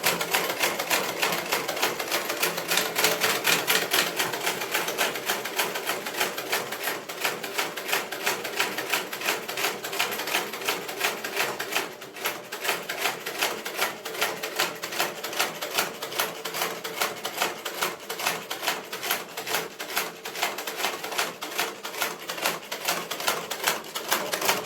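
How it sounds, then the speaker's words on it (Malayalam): A sewing machine driven by a newly installed electric motor stitches a handkerchief, giving a continuous, rapid mechanical clatter that runs loud and close for the whole stretch, with a brief dip in the middle and no talk. "ഇപ്പോൾ നമുക്ക് മുകളിൽ വെച്ച് തന്നെ നമുക്ക് തയ്ച്ച് നോക്കാം."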